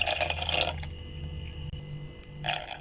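Water poured into cake batter in a bowl, a close splashing trickle at the start and again at the end, with a quiet lull between.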